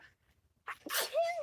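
A single sharp sneeze with a quick breathy intake before it, close and loud after a moment of near silence.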